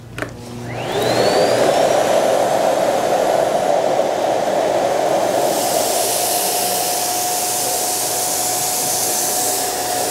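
A Miele Boost CX1 Graphite Grey vacuum cleaner at its highest suction setting starts up with a rising whine, then settles into a loud, steady roar with a high tonal hum. It runs alone with no voices.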